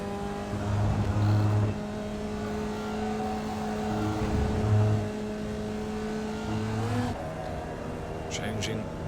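A Formula Vee race car engine in the iRacing sim hums steadily and climbs in pitch, shifting up once on a flat stretch, with a voice talking over it throughout.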